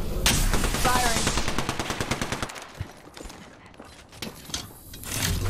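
Automatic weapon fire in a squad-based shooter game, a dense rapid burst of gunfire for a few seconds, then scattered single shots and mechanical clatter before another loud burst.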